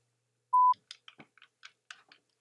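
Telephone dialing sound effect: one sustained keypad beep followed by a quick run of short, separate dial-tone blips, clear and close with no voices.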